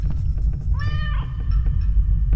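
A single drawn-out meow from a cat in a video game, clear and fairly close over a constant low rumbling background.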